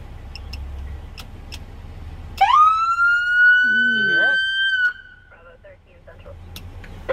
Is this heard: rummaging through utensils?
no